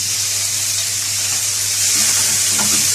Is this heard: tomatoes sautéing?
yes